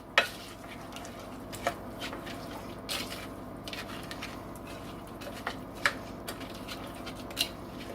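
Stove Top stuffing mix stirred into warm water in a bowl, giving soft wet squishing and scraping with a few sharp clicks of utensil against the bowl, steady and close.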